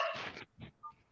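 A pet dog named Charlie barks at home, one broad bark followed by two shorter yips, fairly faint and close, with no one talking over it.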